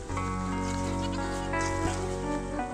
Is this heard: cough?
no